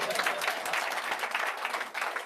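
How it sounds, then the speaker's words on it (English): Steady, dense audience applause at a mentalism stage show, many hands clapping together at an even loudness for the whole stretch without a break. "Give him a round of applause"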